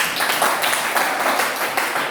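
A short burst of applause from a group, many hands clapping together in a steady patter.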